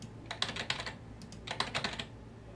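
Someone types on a computer keyboard, two quick bursts of close, crisp key clicks separated by a short pause in a quiet room.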